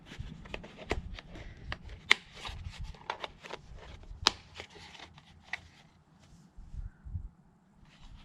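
Pieces of a plastic camp cook kit are snapped apart one after another, a run of sharp close clicks and cracks with light rustling and handling in between.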